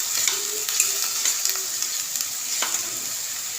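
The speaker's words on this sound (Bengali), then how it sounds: "পেঁয়াজটা হালকা ভাজা হয়ে গেছে, এর মধ্যে দিয়ে দিচ্ছি টমেটো কুচি" Chopped tomato tossed into lightly fried onions in a pan for a rohu fish curry, a bright close sizzle with a few quick stirring scrapes and clicks, no voices.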